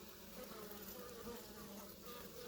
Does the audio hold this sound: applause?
no